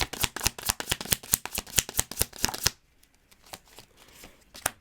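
Tarot cards being shuffled up close in a quick run of crisp riffling slaps for a few seconds, then fading to soft handling noise.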